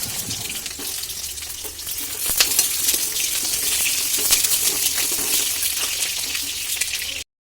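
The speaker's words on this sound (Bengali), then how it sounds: "এবার একে একে ডুমো ডুমো করে কাটা আলুগুলো তেলের মধ্যে দিয়ে দিতে হবে, একটু লাল করে ভাজবার জন্য।" Diced potatoes fry in hot oil in a kadai, giving a steady, close hiss and sizzle that swells a little partway through and then cuts off abruptly near the end.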